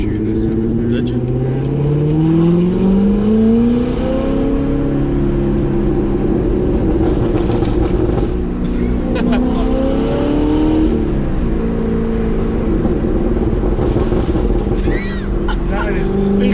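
Corvette ZR1 fitted with a Corsa Extreme exhaust revving loudly and continuously up close, engine pitch climbing and falling through several rises, with people talking over it.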